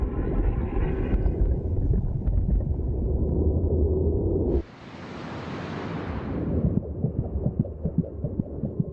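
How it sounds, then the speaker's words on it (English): Deep rhythmic thudding of heartbeats heard by a fetus in the womb, muffled and whooshing, with a burst of hissing noise midway before the pulsing returns. "She can also hear the competing thud of heartbeats"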